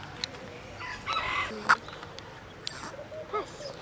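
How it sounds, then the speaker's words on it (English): A chicken in an outdoor plant nursery gives a few short, scattered clucks and calls over quiet background noise, with faint voices nearby. "She's scared of the chicken."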